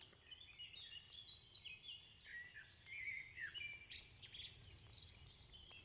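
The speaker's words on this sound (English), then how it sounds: "But listen to the birds" Several birds chirp and sing in overlapping phrases, bright and fairly close, over a soft background hiss with no talking.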